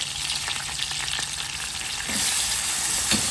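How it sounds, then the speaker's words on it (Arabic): Butter melts in a pan, giving a close, steady sizzle and fry hiss that grows slightly louder partway through, with faint stirring taps. "تحطين خشوقتين زبدة تخليها تذوب هيك"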